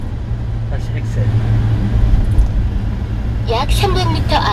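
A manual-transmission car accelerating during a driving lesson, with a steady low engine drone and road noise throughout, and a voice speaking briefly near the end.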